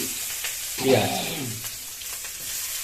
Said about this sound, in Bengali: পেঁয়াজ এখানে দিয়ে দিল আমরা জাস্ট তখন পছন্দ করে এটাকে ফ্রাই করে নেবো